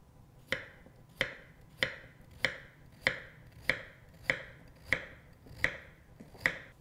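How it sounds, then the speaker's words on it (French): A peeled carrot cut into rounds with a knife on a board, giving about ten sharp, evenly spaced chopping taps up close at a steady rhythm, with no talk over them. "J'épluche une carotte. Je coupe les extrémités. Puis je taille en rondelles."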